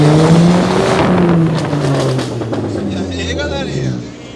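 A stage 2 tuned Fiat Bravo 1.8 engine revs loudly and close by, its pitch sliding up and down through several throttle blips before settling into a rougher, crackling idle.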